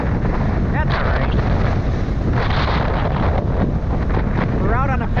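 Loud, constant wind buffets the microphone during an outdoor bike ride on St. Joseph Peninsula, a heavy rumbling roar with gusty surges throughout and a voice faintly underneath.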